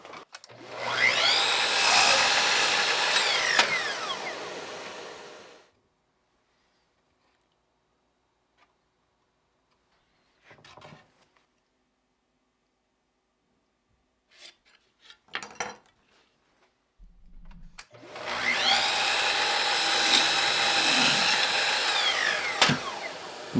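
An old Stanley 928 edge rounder rasps along the edges of wooden screen door molding in two long, steady strokes, close and loud, separated by a quiet gap holding a few faint knocks and handling sounds.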